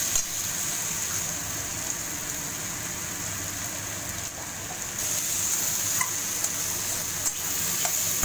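Spices and salt being stirred and sautéed in a hot pan while cooking chicken biryani, a steady close sizzle with scraping stir strokes throughout, no talking.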